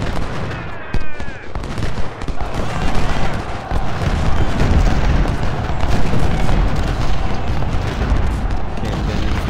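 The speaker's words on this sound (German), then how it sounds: "Nee, schießen! Wird nur schießen." Rolling gunfire and booming volleys sound from a battle at Cedar Mountain in the video game Ultimate General: Civil War, loud and dense, building from scattered shots into a sustained rumbling barrage, with a voice briefly heard early on.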